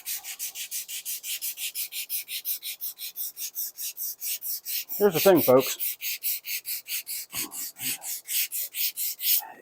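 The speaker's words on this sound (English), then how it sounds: "Sanding it again." Rhythmic back-and-forth sanding strokes on a wooden cutting board, steady and close, with someone speaking briefly partway through.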